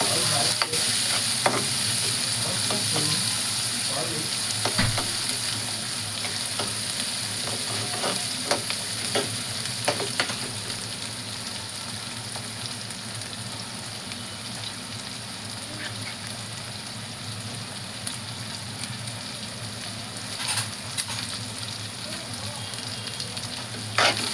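Chopped onion, including the green spring-onion tops, frying for a village-style zunka pithla and being stirred in a pan: a steady close sizzle runs throughout, broken by scraping spoon strokes and light clinks, with no talking.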